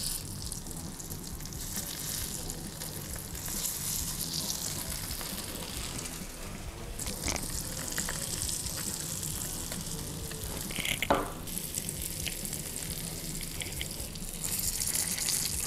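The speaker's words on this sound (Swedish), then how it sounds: "Jag tänker vi ska steka lite potatis nu så att vi har allting gjort för sen när vi steker köttet." Potatoes fry steadily in a pan, a continuous dense sizzle running throughout at moderate level, with a couple of brief clinks or stirs partway through and no talking.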